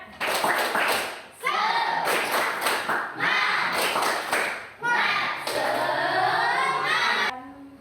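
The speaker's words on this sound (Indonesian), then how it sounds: "Kita sekarang ice breaking dulu ya, yaitu tepuk semangat." Schoolchildren in a classroom doing a rhythmic clapping ice-breaker chant, with bursts of patterned claps alternating with loud chanted voices, repeated several times in close, lively succession.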